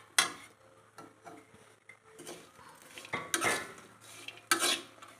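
Snack mixture being stirred in a pan while making evening snacks for children: a run of irregular metallic scrapes and clinks of a utensil against the pan, close and fairly loud, in uneven bursts with no talk.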